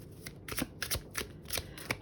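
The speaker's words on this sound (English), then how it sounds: "I'm going to just keep shuffling" Tarot cards shuffled by hand in a run of quick, crisp riffling bursts with short gaps between, close and fairly quiet, ending in a sharper louder slap.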